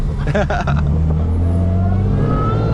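A Dodge Hellcat widebody engine revs loud and close, with a few quick rising blips that settle into a deep, steady rumble. Voices are faintly audible in the background.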